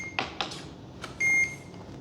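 A Redcat Gen9 International Scout 800A 1:10 RC trail truck gives a few short electronic beeps, then a longer sustained tone, sharp and close, with faint clicks in between.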